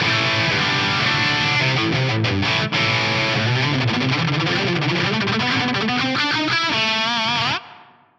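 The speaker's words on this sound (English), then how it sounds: "So I've got a lot of distortion on the bridge pickup with everything wound up." A loud electric guitar on the bridge pickup with heavy distortion plays a sustained run of notes and chords, ringing continuously before cutting off abruptly at the end.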